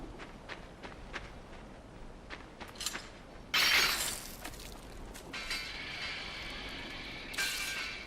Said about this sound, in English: Listen to the sound of the traps as they reopen after death.